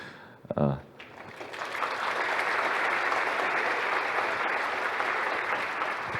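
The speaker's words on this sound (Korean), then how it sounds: "박수 감사합니다" Steady audience applause fills a conference hall in Seoul at an Unreal Engine event, starting after a short burst of a man's speech and holding dense and even.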